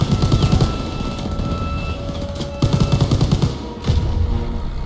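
Bursts of automatic gunfire from Call of Duty WWII come in loud, rapid rattling volleys separated by short lulls, with distant shots and battle noise filling the background.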